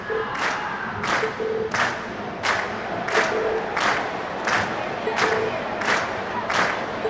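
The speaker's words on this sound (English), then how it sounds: "And we've heard your cheers loud and clear." A crowd at a concert in the video game Trails of Cold Steel chants and cheers in regular rhythmic bursts about every seventy-five hundredths of a second, loud and fairly close.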